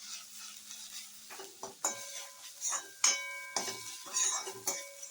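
Turmeric and ginger-garlic paste stirred in a pan for vangyacha bharit, with a metal spoon scraping and clinking against the pan in irregular close strokes over a soft sizzle.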